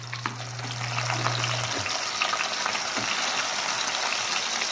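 Burger steak patties frying in a pan over low heat give a steady, close sizzle from start to finish, with a low hum underneath for the first couple of seconds.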